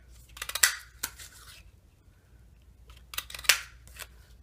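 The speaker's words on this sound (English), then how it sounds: "we're going to cut out 4 of those using that punch" A 3/4-inch circle paper punch cuts out paper circles for a card, giving a few sharp, close crisp clicks and crunches in two separate bursts with quiet pauses between.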